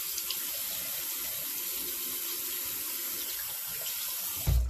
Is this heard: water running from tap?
yes